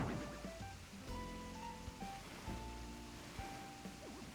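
Steady rushing waterfall in the Animal Crossing video game, a continuous wash of water noise under gentle in-game musical tones, with no talk over it.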